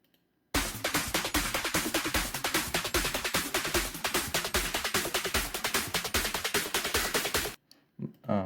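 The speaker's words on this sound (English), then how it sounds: "Last for the intro is actually just these build-up drums" A dense, driving drum pattern with rapid, evenly spaced hits building steadily for about seven seconds, loud and close, then cutting off abruptly.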